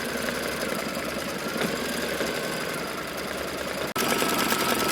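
An embroidery machine stitches the tack down on a quilt block, a steady rapid mechanical hum and needle chatter close by that drops out abruptly for a moment near the end and then resumes.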